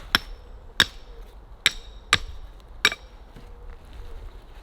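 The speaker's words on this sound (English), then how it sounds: "To use the hammer, I think, to loosen it." Five sharp, ringing hammer strikes on metal, loosening a part on a 1981 British military Land Rover, land at a steady pace, close by, with a quiet background between blows.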